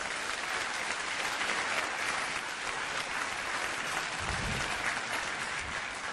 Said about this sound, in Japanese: 皆様、陸上競技部の皆様へ今一度盛大な拍手をお送りください。